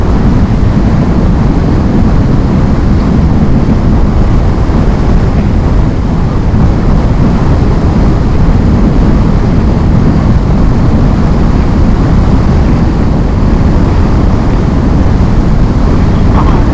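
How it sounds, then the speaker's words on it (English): Strong, steady wind roars across the microphone as riders head into it on a road near Winthrop and Washington Pass, a loud continuous low buffeting rumble with no pauses for the full stretch. "Once again, we're going into the wind."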